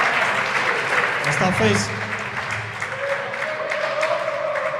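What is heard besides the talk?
squash match crowd applauding a rally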